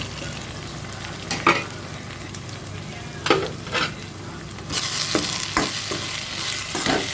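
Goat liver sautéing with masala and salt in a pan over a low flame, a steady sizzle with scraping stir strokes at intervals, growing louder and busier toward the end, with no talking.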